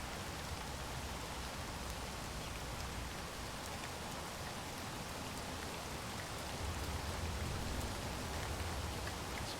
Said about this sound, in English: It's rained a lot in this game.